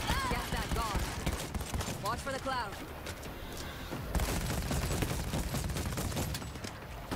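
Heavy gunfire fills a World War Z: Aftermath zombie shooter match on a New York subway stage, including an explosive shotgun-like weapon, a dense, continuous barrage of shots and impacts with excited voices talking over it.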